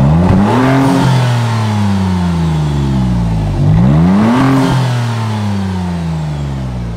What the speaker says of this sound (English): Give it a little rev so we can hear what it sounds like.